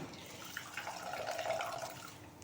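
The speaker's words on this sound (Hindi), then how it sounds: "ये भी एक वे हो जाता है कि आप आराम से मूली का सारा पानी निचोड़ सकते हैं।" Water is squeezed out of grated radish bundled in cloth, giving a steady close trickle and drip of liquid for a couple of seconds with no talking.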